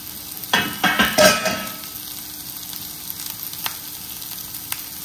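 Garlic and onion sizzle in a hot pan for fried rice, a loud burst of frying with stirring scrapes early on that settles into a steady, quieter crackle.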